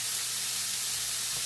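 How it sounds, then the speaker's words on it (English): Steady, bright sizzling hiss of pre-cooked sausage frying in a hot pan, continuous and close, with no voices. "I love that sizzle."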